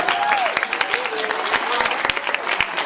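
Applause from a church audience at a Super Saturday gathering in Raleigh, North Carolina, a steady close wash of many clapping hands with a voice talking over it.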